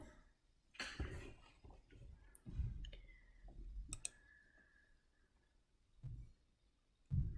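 A computer mouse clicks on a browser extension, several soft, sharp clicks scattered across quiet room noise, faint and close, without talk.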